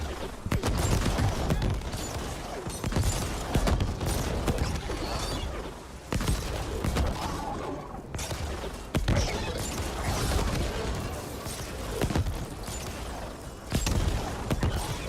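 Rapid bursts of grenade launcher fire and explosions from The Ascent game, dense and continuous, with loud cracks and booms repeating throughout amid clattering mechanical noise.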